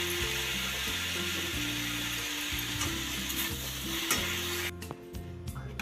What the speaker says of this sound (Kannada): ಇದನ್ನು ಖಾರದ ಪುಡಿ ಹಾಕ್ತಾಯಿದ್ದೀನಿ. ಇದೊಂದು 2 ಸೆಕೆಂಡ್ ಫ್ರೈ ಆದರೆ ಸಾಕು.